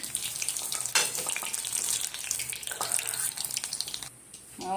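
Green chilies for crisp chili bhaji fry in hot oil, a dense crackling sizzle with clinks and stirring, then a brief quiet dip and a renewed burst at the end.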